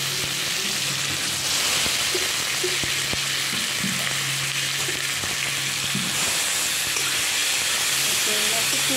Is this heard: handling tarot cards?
no